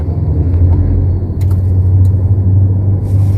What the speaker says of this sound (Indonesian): kita nyalain dulu mesinnya